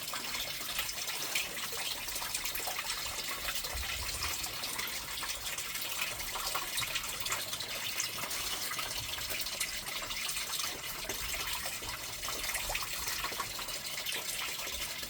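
Pumped water runs steadily through a small sluice box while working paydirt outdoors, giving a continuous, even rushing and gushing flow that holds the same level from start to finish.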